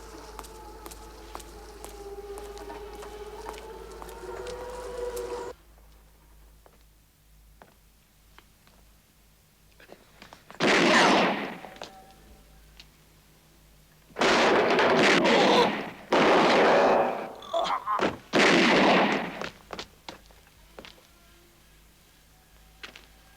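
Gunfire bursts ring out in a 1970s German crime film about the hunt for a serial killer, several loud close shots in clusters after a quiet stretch, with faint dialogue at the start.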